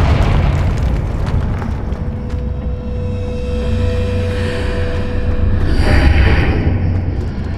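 A Confringo fire spell explodes in Hogwarts Legacy, a loud sustained boom with rumbling low end that swells again near the end over a steady game ambience.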